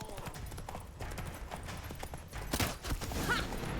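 Roach, a horse in The Witcher 3, gallops with rapid, steady clip-clop hoofbeats at close range, the thudding continuing throughout with a brief vocal sound partway through.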